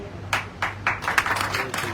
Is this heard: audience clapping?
yes